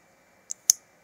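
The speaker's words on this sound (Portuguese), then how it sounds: "Tô fazendo um barulho aqui, mas é uma caneta." A ballpoint pen clicks twice in quick succession, a faint sharp tick followed by a louder, crisper snap, close up against an otherwise quiet background.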